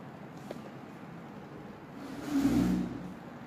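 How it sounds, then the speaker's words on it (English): A homemade high-voltage brushless DC motor running on a homemade controller, heard as a faint steady whir that swells into a louder tonal hum for about a second before easing off, with no talking. "Here the motor is running."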